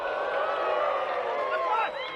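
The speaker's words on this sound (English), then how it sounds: "Nifty moves, bringing oohs and ahs out from the crowd here at William Rollins Stadium." A soccer stadium crowd at William Rollins Stadium swells in a sustained ooh and aah during an MLS NEXT PRO match between Ventura County FC and North Texas SC, a broad murmuring roar that fades near the end.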